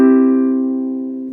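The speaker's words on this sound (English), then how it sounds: "A major triad, which might sound like this," A single sustained major triad chord rings out on a piano, steady and fairly loud, slowly fading over a second or so with no other sounds.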